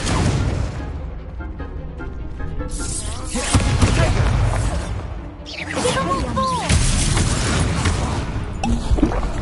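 Spell-casting combat in the video game Hogwarts Legacy, a dense run of loud booms, crashes and magical whooshes with tonal sweeps, continuous and layered throughout.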